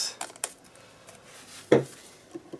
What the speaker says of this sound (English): Put the lids back on all my inks.